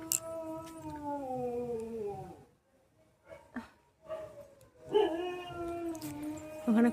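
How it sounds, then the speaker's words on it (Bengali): A dog outside at night howls in long, wavering drawn-out cries, pausing briefly before howling again with a few yips, fairly close and alone. "কুকুরটা ডাকছে"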